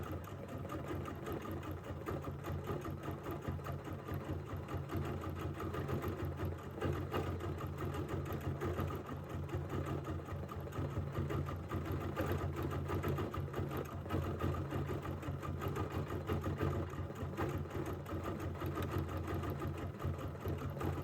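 A sewing machine stitches steadily without pause, couching fibers onto a quilt in a continuous, even mechanical whir at close range.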